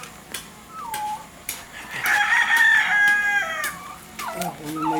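A rooster crows loudly in the middle while chickens cluck intermittently around it, close by and without talk.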